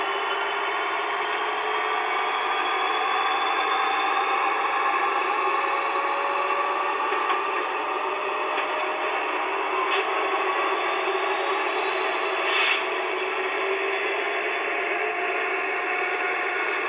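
Simulated BNSF SD70MAC diesel locomotives throttle up in Train Simulator 2015, a sustained, loud, humming engine roar with slowly rising tones and two brief hissing bursts near the end.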